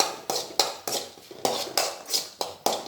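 Crumbled kari vadagam being fried and stirred in a pan for brinjal drumstick poricha kuzhambu, a series of about ten sharp metallic scrapes and clinks of a spoon against the pan at a steady rhythm, fairly close.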